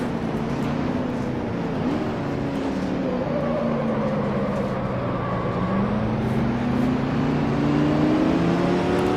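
A Ford GT40 race car engine drones steadily in Grand Prix Legends as it circles the Daytona oval among other cars. The engine pitch dips and rises through the lap, loud and close, with no talk.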